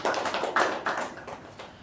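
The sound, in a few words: applause for the Toastmaster in a meeting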